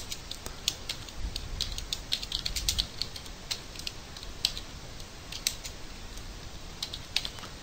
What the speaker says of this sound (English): I'm just going to type that into a dialog message box here manually